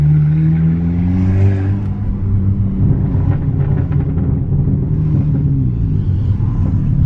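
A Stage 3 tuned Volkswagen GTI, front end damaged, revs and pulls away with a loud, deep engine drone close by that climbs steadily in pitch, with no talking over it.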